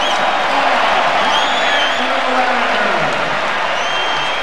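Basketball crowd at the 2003 McDonald's All-American game, a dense, steady roar of cheering and chatter that fills the whole stretch at an even, loud level, with no single voice standing out.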